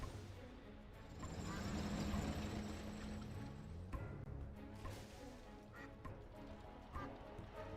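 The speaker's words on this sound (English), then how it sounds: "is this the map with the duck noises?" Ducks quacking faintly and repeatedly behind game battle sounds on a strategy map during a live competitive match.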